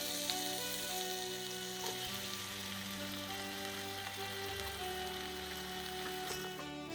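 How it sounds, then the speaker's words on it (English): Herbs sizzling in four tablespoons of melted butter for Jamaican-style steamed fish, a steady close crackle and hiss with a faint low hum running beneath it throughout. "Melt 4 tablespoons of butter. Add in the herbs."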